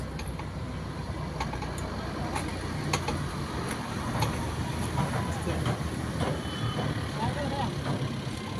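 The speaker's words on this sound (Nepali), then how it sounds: "यो त रेल हो" A passing train rumbles steadily near a park in Kolpur, a continuous broad roar with faint wheel clatter that holds at an even level throughout.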